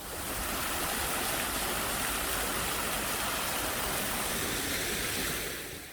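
An artificial waterfall in a park pours steadily, a dense, continuous rush of falling water that stays loud and even throughout with no voices.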